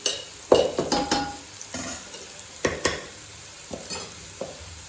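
Boiled rice is stirred and tossed with Andhra mango pickle in a hot pan, giving a steady sizzle with scraping spatula strokes and occasional metallic clinks, close and alone.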